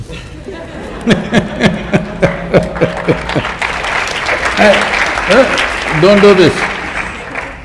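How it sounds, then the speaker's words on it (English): Audience applause and laughter at a university talk in Toronto, a burst of clapping that swells and holds over steady crowd murmur, with a voice and crowd reactions cutting through near the end. "You're clapping at my failures."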